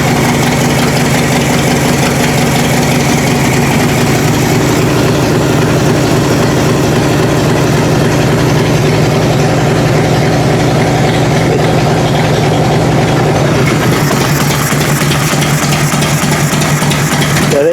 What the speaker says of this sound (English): Hear that noise? That's the flat slide going backwards and forwards.